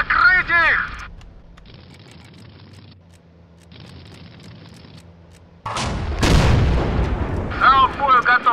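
Self-propelled artillery firing in the Men of War game, MWM mod, with a heavy booming blast and rumbling roar in the second half, plus shorter gunfire and voices at the start and end.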